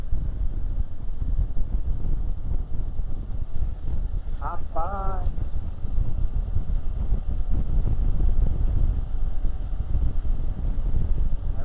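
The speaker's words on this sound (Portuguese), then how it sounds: "Então agora a passagem é feita por balsa." A vehicle ferry crossing the Piquiri River on the BR-272 in Brazil gives a steady low engine rumble mixed with gusty wind noise, while someone briefly speaks and a short chirp rises midway.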